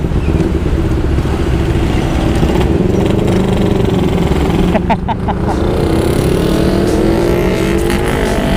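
A Kawasaki Ninja motorcycle engine revs loudly up close, its pitch rising and falling in surges, with brief rattles in the middle; the engine sounds rough.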